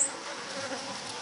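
Bees in a city feeding on sugar water, giving a steady, close insect buzz that holds evenly with no pauses.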